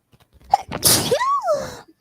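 A single loud, close sneeze with a sharp burst and breathy release, followed by a brief vocal trailing sound.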